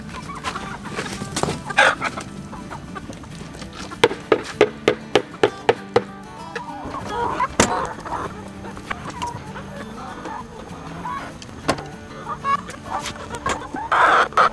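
Homestead chickens clucking nearby, a string of sharp repeated clucks in quick bursts with softer cackling and bird calls in between, no talking.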